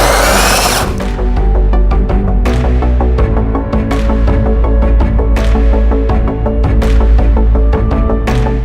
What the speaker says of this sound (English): then you can just use a simple hole cutter